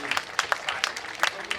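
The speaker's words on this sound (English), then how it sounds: "Standing ovation and clapping ovation for our brother" Audience at a pensioners' gathering in Imo State giving a standing ovation, scattered claps and crowd noise rising in uneven bursts, fairly close and moderately loud, with voices mixed in.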